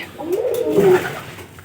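A pigeon in a straw-lined nest gives a soft, rolling coo that rises and fades within a couple of seconds against quiet room hush.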